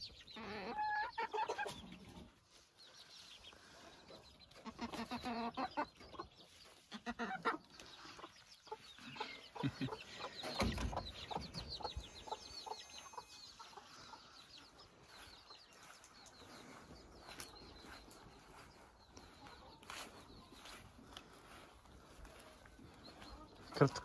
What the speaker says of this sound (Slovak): toto je sliepočka, aj táto malá je sliepočka, aj tá vzadu tamto je sliepočka